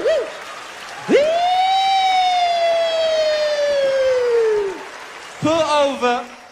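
A voice imitates a police siren with a long, loud wail that rises and then slowly falls, followed after a short pause by a quicker rising whoop.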